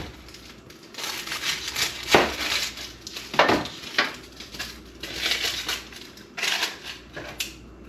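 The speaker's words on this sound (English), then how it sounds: "I'm going to chop up an onion." Knife chopping an onion on a cutting board for a beef and pork chili, heard as a series of sharp, close cuts in an uneven rhythm with no voice over them.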